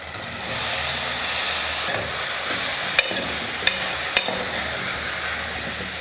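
Sliced radish sizzling steadily in hot oil for a sambar, a dense broadband fry hiss with a few sharp utensil clicks near the middle; no voices.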